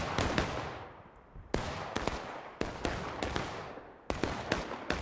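Muskets fire in the Civil War game War of Rights on the Dunker Church map with 105 players: sharp, loud cracks come in ragged clusters and single shots, echoing and fading between bursts.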